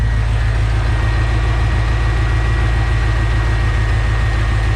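A 1984 Ford F-150 engine idles steadily after an oil pump replacement, a loud, close, continuous low rumble that holds an even tone throughout with no other sounds.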